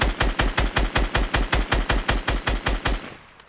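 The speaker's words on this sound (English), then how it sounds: "I'm shooting our launch pad out." A rapid, evenly paced string of about fifteen loud gunshots in Fortnite, fired to shoot out a launch pad, stopping abruptly with a short fading tail.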